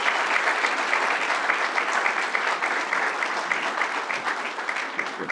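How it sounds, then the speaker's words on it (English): An audience at a city's State of the City address applauds the library staff and director, steady, full applause throughout, close and loud. "Please, I will ask for a round of applause for the library staff and the director, Colleen Winters,"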